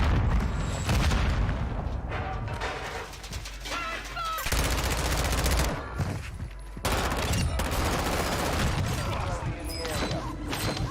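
Video game combat with a thrown sticky grenade exploding amid rapid bursts of gunfire, loud booms and crackling shots in quick succession, broken by short gaps, while people talk over the action.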